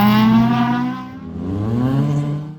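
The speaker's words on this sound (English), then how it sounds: "uses the power of the 1800 VTEC Honda engine in the little Mini to correct his mistake" Mini rally car fitted with an 1800 VTEC Honda engine revving hard at a karting circuit rally stage, a loud, sustained engine note that rises and falls in pitch as it accelerates, close and with no voices.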